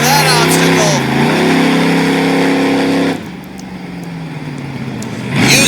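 A monster truck engine roars at high revs during a freestyle run, a loud sustained growl with shifting pitch that drops off abruptly and then surges back at the end, an announcer talking over it.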